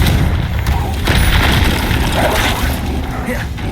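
Confringo, a fiery blast spell, explodes in the Hogwarts Legacy video game with a loud, dense boom and crackling rumble that rolls on continuously, mixed with game effects.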